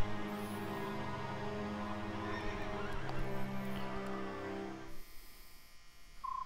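Horses whinny in the Fire Emblem Radiant Dawn video game, with a long rising and falling neigh over a steady tonal music bed, followed by a quieter tail that ends in a short electronic beep.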